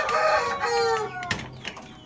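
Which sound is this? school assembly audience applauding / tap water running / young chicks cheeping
young chicks cheeping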